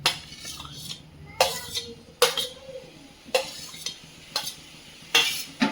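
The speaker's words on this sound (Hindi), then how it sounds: "एक मीडियम साइज का आलू काट करके डाल रही हूँ।" Chopped pieces of a medium-sized potato are dropped into a bowl of chana chaat, making about six sharp clinks and taps against the bowl, evenly spaced with quiet gaps between them.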